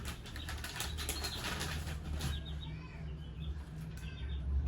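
A live chick beats its wings in steady flurries of flapping, close and fairly loud, with some faint chirps mixed in and no talk.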